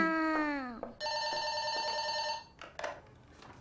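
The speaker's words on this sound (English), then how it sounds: "Mom! Phone!" A telephone rings with a steady electronic trill, preceded by a child's drawn-out call, and a brief voice follows the ringing.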